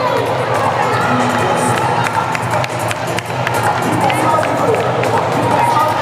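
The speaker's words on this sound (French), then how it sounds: "S'il vous plaît, applaudissez les filles du No Stress!" A loud, dense crowd at a women's futsal final roars and cheers continuously, with shouting voices and scattered clapping blending into a constant wash of noise.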